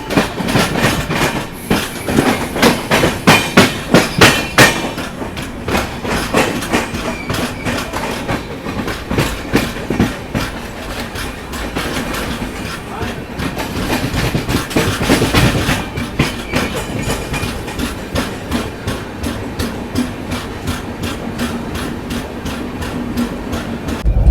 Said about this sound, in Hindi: अब देखो अपनी तमिलनाडु एक्सप्रेस स्पीड अप हो रही है धीरे धीरे